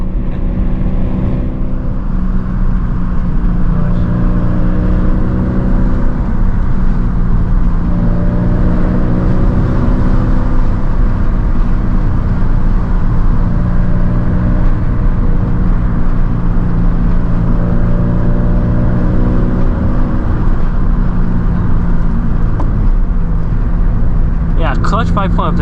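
A Toyota GT86 with an aftermarket axle-back exhaust and a factory clutch drones steadily while driving, the engine hum constant and close beneath someone talking throughout.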